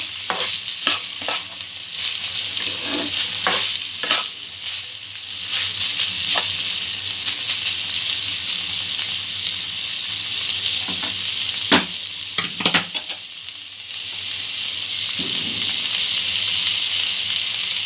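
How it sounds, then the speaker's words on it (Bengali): Carrot pulao stirs and fries in a pan, a continuous close sizzle with repeated scraping strokes of the spoon through the rice. "আবারও সব কিছু ভালো করে মিক্স করব।"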